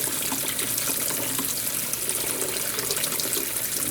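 Tap water runs steadily to flush blue ink from a fountain pen converter, a continuous splashing, trickling stream heard up close with no talk.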